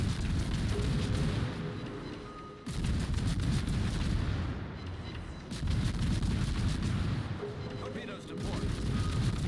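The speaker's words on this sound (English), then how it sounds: "make sure you watch where your shells are impacting. They're mostly bouncing off the turret armor." Naval guns firing and shells striking in World of Warships make heavy, rumbling booms at regular intervals, each swelling into a sustained, roaring barrage.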